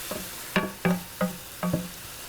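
Orecchiette pasta with mushrooms tossed in a pan on high heat, four or five distinct bursts of sizzle and scraping as the food is stirred, close and fairly loud with short quiet gaps between.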